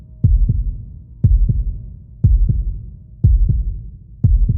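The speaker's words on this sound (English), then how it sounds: "their heartbeats racing" Heartbeat sound effect: loud, deep lub-dub double thumps repeating at a steady rhythm of about one per second, five beats in all, with a low throbbing hum underneath and no voices.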